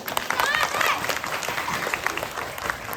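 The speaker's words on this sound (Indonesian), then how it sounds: "Tepuk tangan dulu dong" An audience at a Maulid Nabi religious gathering claps, a brief burst of applause mixed with crowd noise and overlapping voices that tapers off quickly.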